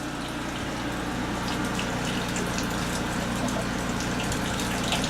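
Maple sap flowing through vacuum tubing in a sugar bush, a steady close gushing and gurgling of liquid with faint drips, continuous throughout and free of speech.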